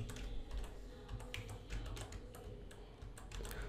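A password being typed on a computer keyboard: quiet, close key clicks tapped in an irregular rhythm over a faint background hum, with no talking.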